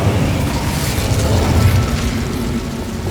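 Incendio fire spell cast in Hogwarts Legacy, a loud booming burst of flame that roars steadily for about three seconds with a heavy low rumble and no voices.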